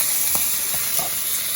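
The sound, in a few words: Kobe wagyu beef frying in its fat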